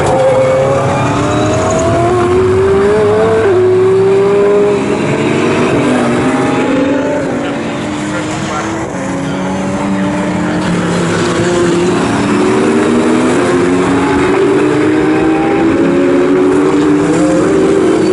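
GT3 race cars racing at Snetterton circuit: loud, high-revving engines climb and drop through gear changes as several cars pass, with a brief dip in volume midway, close to the track and without talking.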